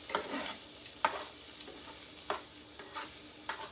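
Onions and peppers fry in a pan, a steady sizzle broken by repeated scraping stirs of a utensil at an even pace, close by with no voices.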